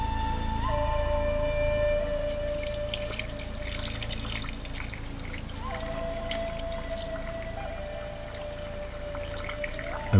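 Water pouring down at an African waterfall, a steady close rushing and splashing flow that holds at even loudness throughout with faint tonal ringing over it.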